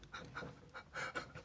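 A cartoon dog in a children's story pants in quick rhythmic bursts of breathy huffs, close and moderately loud, with no talking over it.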